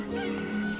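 A single short squawking cluck from a chicken in the video game Neverwinter Nights, loud and close, heard alone.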